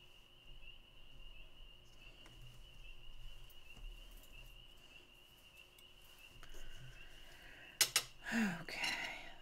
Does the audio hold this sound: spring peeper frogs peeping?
yes